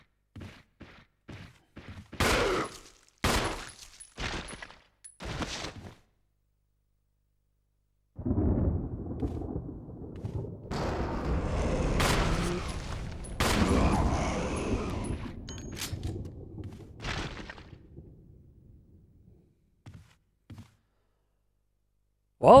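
Gunfire in the GameCube Resident Evil game: a series of sharp separate shots in the first seconds, then a longer, denser stretch of loud blasts and rumbling game noise, ending in near silence.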